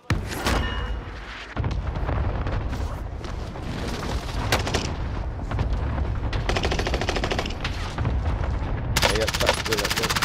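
Rapid video-game gunfire crackles throughout, dense bursts of shots layered with booming impacts and a loud stretch near the end, while a player talks over it.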